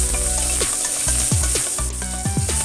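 Whole spices and urad dal frying in hot oil for Chettinad-style tomato soup, with a steady close sizzle and crackle throughout, broken by short scraping stirs of a spoon in the pan.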